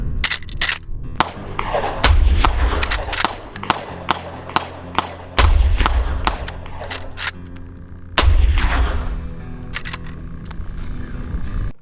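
A Marlin 1895 SBL lever-action rifle in 45-70 fires several loud, sharp shots outdoors at irregular spacing, some deep booming reports, mixed with metallic lever-cycling clicks and clatter between rounds.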